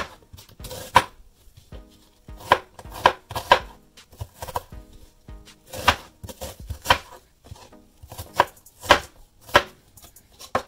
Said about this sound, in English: Okay, so let's cut some onions.